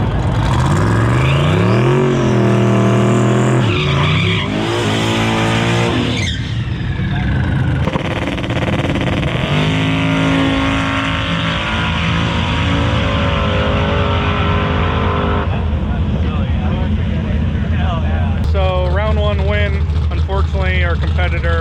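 A Chevy Nova drag car makes an eighth-mile pass at the track, its engine loud and close as it revs and climbs through the gears, with voices talking over it.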